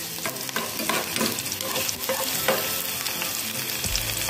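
Garlic sizzles and crackles steadily in a hot pan, with occasional stirring scrapes and clinks throughout.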